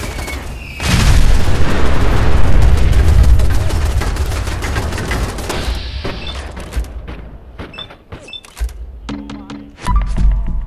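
A mini nuke detonates in Fallout 4, a loud, heavy boom with a long rumbling roar that slowly fades, followed by scattered gunfire and game effects.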